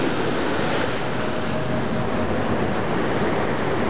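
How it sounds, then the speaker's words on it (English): Ocean waves wash onto the shore at the Malecon in Puerto Vallarta on a gray, overcast morning, a loud, continuous surf roar mixed with wind buffeting the microphone, with no voices. "The waves are lapping at my feet."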